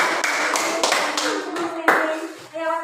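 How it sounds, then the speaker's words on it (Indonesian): A classroom of children and their teacher clap their hands together in a rhythmic burst of applause, mixed with chatter and voices that continue throughout. "Nah, tepuk tangan untuk kita semua."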